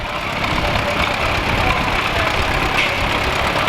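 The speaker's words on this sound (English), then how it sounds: "This is a 1938 RC number 2 Allis Chalmers." A 1938 Allis-Chalmers RC number 2 tractor engine runs steadily at a fairly close distance, giving a continuous rough idle with no break across the few seconds and no talking over it.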